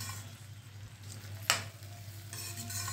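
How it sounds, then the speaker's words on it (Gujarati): Soaked rice for pulao is stirred slowly in a pot with a soft, low sizzle and gentle scraping, one sharp clack of the spoon midway, and a steady hum underneath; no voices. "અને બહુ ન ફેરવાય, નકર આ ભાથી ને ભાંગી જાય. એટલે સાવ અને ધીમે ધીમે ફેરવવાના"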